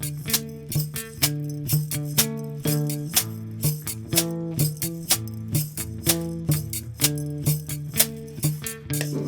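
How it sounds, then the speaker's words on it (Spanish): A small jar of buckwheat groats shaken like a maraca, giving steady rhythmic rattling swishes in a regular beat, played along with a cumbia-style music track. "Si no tenemos maraca, tenemos el frasquito de trigo sarraceno."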